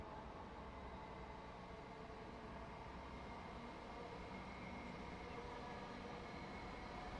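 Train in the simulator game Train Sim World 6 on the Medway Valley Line, a steady low rumble of rolling wheels and carriage noise, continuous and even, fairly quiet, with no talk over it.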